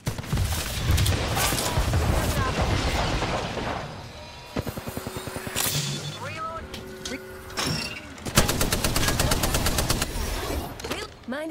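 Weapons fire in the battle royale game Apex Legends, with dense, continuous rapid shots and booms that turn into a fast, even automatic burst near the end. Voices talk over the fighting.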